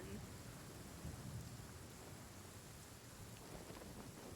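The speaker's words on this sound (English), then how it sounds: "Why is it raining?" Steady rain and rolling thunder in the Genshin Impact video game, a constant hiss of rainfall with low rumbles swelling through it, a soft layer of game ambience throughout.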